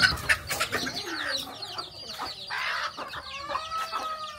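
Chickens squabble inside a coop after overnight rain, with a busy stream of clucks, squawks and sharp calls close by and no talking.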